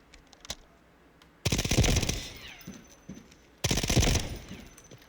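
An MP7 submachine gun fires on a firing range in the video game Delta Force, two rapid full-auto bursts of about a second each, loud and sharp with a brief tail, separated by near silence.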